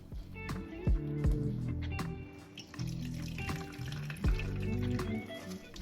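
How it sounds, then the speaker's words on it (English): Salted grated zucchini is squeezed by hand so its extra liquid drips and trickles into a bowl. The splashing and dribbling comes up close in uneven bursts, with no talk over it. "I squeeze out all the extra liquid."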